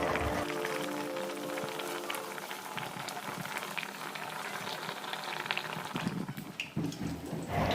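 Egg curry simmering in a pan gives a steady, close bubbling and sizzling that runs the whole time, with a few louder clatters near the end and no one talking.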